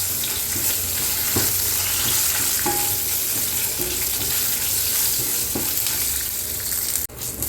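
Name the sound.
whole spices dry-roasting in a pan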